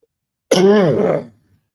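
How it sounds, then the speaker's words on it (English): A single harsh cough or throat-clear, close and short, bursting out of silence and fading quickly. "I've been needing to cough"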